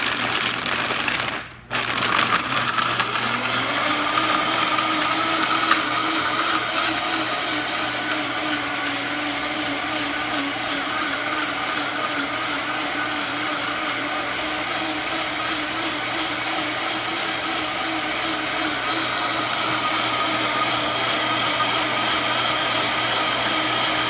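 A kitchen blender whirs steadily as it chops almonds and cashews for a vegan vegetable casserole, a loud continuous grinding drone that starts with a brief stutter and runs on at close range without talk.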